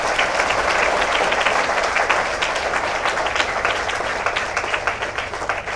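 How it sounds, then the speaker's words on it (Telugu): A hall audience at a personality development training session claps hard, a dense sustained roar of hand claps holding steady throughout and easing only slightly toward the end. "గట్టిగా క్లాప్స్ కొట్టండి."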